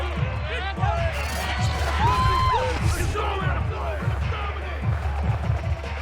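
Home crowd in the Madden 22 football video game, with a Philadelphia Eagles vs New York Jets simulation, roars and cheers steadily, whoops rising above the babble while commentators talk over it throughout.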